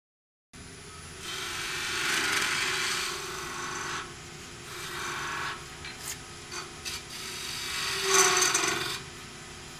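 A woodturning tool used like a spindle gouge cuts into spinning wood on a lathe, producing a steady raspy scraping hiss that swells and fades in several passes with brief sharper catches.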